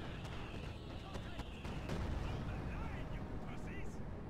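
Bombers attack in Company of Heroes 2, producing a dense, continuous wash of explosions and artillery-like blasts with sharp bursts scattered through a loud, rumbling battle din.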